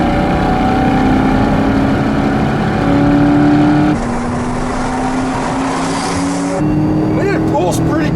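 A 172,000-mile 2004 Mustang GT with a 4.6-liter two-valve V8 pulls hard under acceleration, engine tone rising through the revs and dropping at gear changes, steady and loud from inside the cabin, with a voice talking over it.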